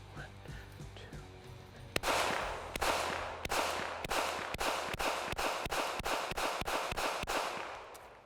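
A CZ P10F 9mm pistol fired at a target seven yards away outdoors, about a dozen sharp, loud shots in a fairly even, brisk rhythm, each followed by a short ring.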